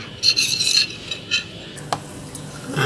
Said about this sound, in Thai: เราก็คนไปเรื่อย ๆ